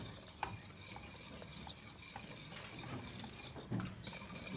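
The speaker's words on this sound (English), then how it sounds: "So I just gradually add in little bits and whisk it until it starts to thicken." A whisk stirs a chowder base in a pot: faint, steady scraping with light metallic clinks against the pot's side, continuing without break and with no talking.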